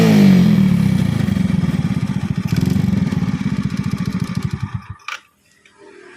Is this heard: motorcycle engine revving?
yes